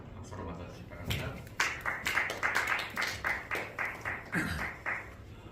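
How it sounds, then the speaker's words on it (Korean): Scattered clapping from an audience at a university doctoral degree ceremony welcoming a speaker, sharp individual claps that fall into a rough rhythm, with a voice speaking over the start. "박수로 맞아주시기 바랍니다."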